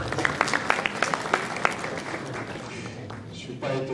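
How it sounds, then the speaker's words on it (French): Applause from an audience at a conference-debate for about two and a half seconds, with scattered claps standing out, then fading as a voice begins speaking. "Je ne suis pas étonné que vous applaudissiez."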